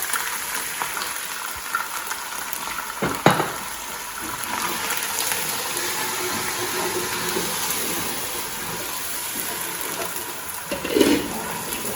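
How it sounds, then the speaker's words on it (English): Ginger garlic paste frying with onions in a pot for lamb yakhni pulao, a steady, even sizzling hiss that holds for several seconds with no talking. "Fry the ginger garlic paste for a minute or so."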